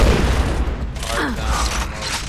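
Rapid gunfire crackles in a first-person shooter tournament match, bursts of shots and mechanical clatter layered over a busy game mix with players talking.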